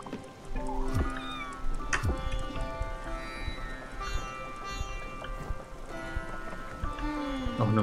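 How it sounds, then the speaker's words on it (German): A cat meowing in the video game Spiritfarer, a few short high mews over a steady bed of game music and ambient sound. "Noch eine Umarmung für die Katze."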